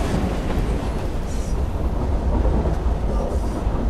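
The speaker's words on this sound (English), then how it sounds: "Turn, you stupid train." Train rolling through Victorian London in the video game Assassin's Creed Syndicate, a loud continuous rumble with rattling carriage noise and faint clacking, close and steady throughout.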